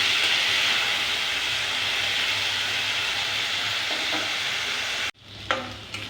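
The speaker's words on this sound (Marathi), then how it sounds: "आता आपली गवार छानपैकी फ्राय झाली आहे" Cluster beans (gavar) fry in a pan and get stirred, giving a dense, steady sizzle throughout, which cuts off abruptly near the end, followed by a couple of faint knocks.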